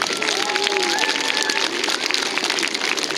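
A school audience applauding students and third grade teachers, steady dense clapping filling the whole stretch, with faint voices mixed in.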